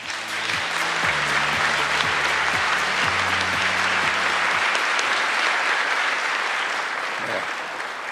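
Sustained audience applause greets committee chairman Kim Jin-pyo at a government policy briefing: dense, loud clapping over a few seconds of opening music tones, fading gradually toward the end.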